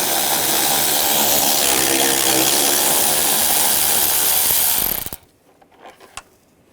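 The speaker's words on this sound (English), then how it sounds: "Now we'll take this bolt out. Use a 10mm socket." A ratchet with a 10mm socket backing out a radiator bolt on a 2008-2012 Jeep Liberty 3.7L V6, a loud, rapid, continuous clicking close up for about five seconds, then stopping abruptly followed by a few faint knocks.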